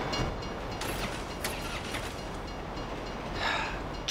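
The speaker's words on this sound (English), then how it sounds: "If you were local, you'd know the train comes by right now." A train rolls past in the GTA 5 video game, a steady rumbling clatter with rhythmic rail clicks and a brief brighter squeal, heard alone at moderate volume.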